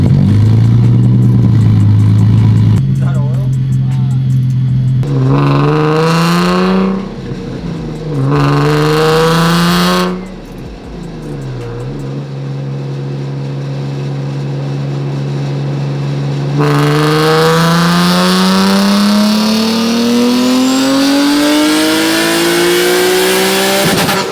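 Turbocharged Nissan 370Z with a high-mileage engine revving hard on a dyno under boost, loud sustained engine roar climbing in pitch through repeated pulls, with brief drops between runs and a final long rising wail.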